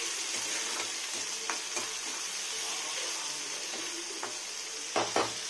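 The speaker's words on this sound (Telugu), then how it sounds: "నానబెట్టుకున్న పెసరపప్పు కూడా వేసేద్దాం. వేసి కొంచెం అలా ఫ్రై చేస్తాం" Soaked moong dal fries in a pan with a soft, constant sizzle, punctuated by a few brief scraping stirs and small clinks near the end.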